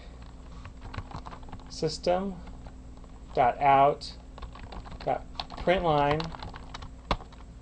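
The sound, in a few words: typing Java code on a computer keyboard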